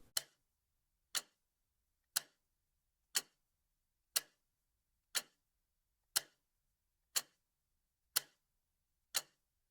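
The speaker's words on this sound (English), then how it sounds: "The ticking of the post office clock, always slightly out of step with the rest of the world." A post office clock ticks alone in a quiet room, ten sharp, evenly spaced ticks roughly once per second, each a crisp click that decays quickly into silence.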